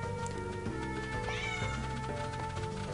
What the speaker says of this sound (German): Und meine Katze freut sich auch im Hintergrund.